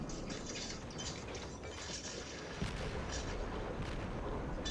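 A Japanese destroyer's guns fire in World of Warships in a naval battle, with a muffled boom near the midpoint over a dense, rumbling, watery background; the whole scene sounds fairly faint.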